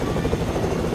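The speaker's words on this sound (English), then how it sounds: "I'll bring the chopper. I'm bringing the chopper." Helicopter in a video game, a steady loud rotor and engine drone that fills the whole second without a break.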